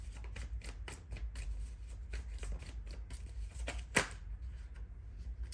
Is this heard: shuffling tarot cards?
yes